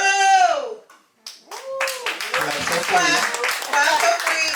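Audience clapping welcomes a guest in a talk-show setting, a brief patter of hands near the start followed by a run of claps and taps mixed under lively talking.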